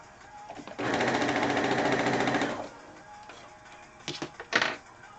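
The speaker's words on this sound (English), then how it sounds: "Whenever you're sewing 2-inch strips together, I'm using my 1/4-inch piecing foot with a guide" A sewing machine runs in one steady burst of about two seconds, joining 2-inch fabric strips under a 1/4-inch piecing foot with a guide, followed by a few short mechanical clicks and taps nearby.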